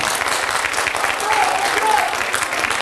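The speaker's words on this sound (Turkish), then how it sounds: "Kuvvetli bir alkışla bu Trabzon'un." An audience at a Trabzon Days stage show breaks into applause, a steady mass of clapping hands throughout with speech-like crowd noise mixed in.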